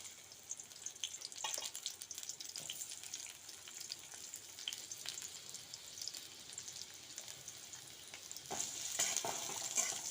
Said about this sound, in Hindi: काटी रखिथिबा पियाज को देदेबा